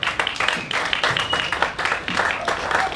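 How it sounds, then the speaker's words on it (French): An audience at a Miss Tatou Polynésie tattoo pageant claps loudly for a contestant, a lively, uneven round of applause with bursts of hand claps throughout. "Je vous demande d'applaudir bien fort, s'il vous plaît, pour Puerani"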